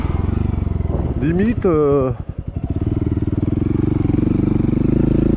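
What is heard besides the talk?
Honda Monkey 125 motorcycle riding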